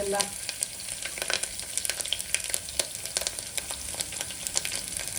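Crushed garlic and a little ginger frying in hot oil in a pan, giving a steady close sizzle with scattered crackling pops and occasional stirring clicks throughout, no voices.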